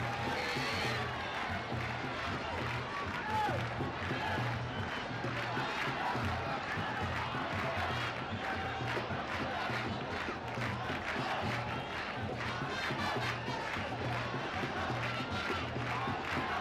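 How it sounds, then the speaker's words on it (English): Stadium crowd at a 1996 World Cup cricket match between Sri Lanka and Kenya, cheering after a boundary, a steady loud roar of many voices with horns or drums beating rhythmically underneath throughout. "So the crowd's absolutely elated."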